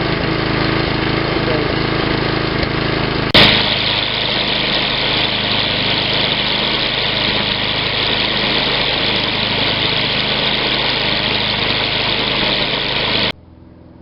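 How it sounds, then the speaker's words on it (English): Husqvarna 6.25 horsepower walk-behind string trimmer engine idling close by, a steady mid-pitched mower-like drone with a slight rhythmic pulse, a sharp knock partway through, then cutting off abruptly at the end. "Now I just started the engine up, and it sounds like a little bit like a lawnmower,"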